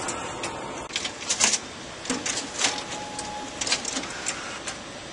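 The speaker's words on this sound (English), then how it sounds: "Your document has been sent to the printer." A print-release office printer runs off a document, giving a steady mechanical whir broken by sharp clicks and clunks at an uneven rhythm, close by with no voices.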